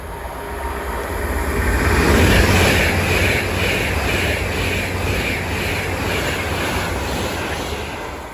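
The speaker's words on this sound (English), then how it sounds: "Passing there is 390 130, sparking our way, going from London Euston to Glasgow Central" Class 390 unit 390 130 rushes past at Watford Junction on the West Coast Main Line, London Euston to Glasgow Central, a loud continuous roar of wheels and rumbling carriages close by that swells and holds.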